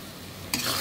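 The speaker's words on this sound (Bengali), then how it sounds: "এই যে আমার কলিজাটা কষানো হয়ে গেছে, দেখুন।" Beef liver sautéing in a hot pan for a Bengali-style bhuna, a short steady sizzle that bursts suddenly brighter and louder halfway through, as if stirred or turned, with no voices.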